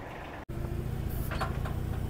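A Japanese mini tractor's small diesel engine runs steadily at a lot in Vinnytsia, a low continuous rumble heard close, broken by a brief cut near the start, with faint clatter over it.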